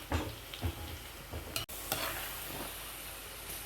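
Pakodi frying in hot oil, a close, dense sizzle with stirring clatters and scrapes near the start, carrying on steadily after a brief dropout.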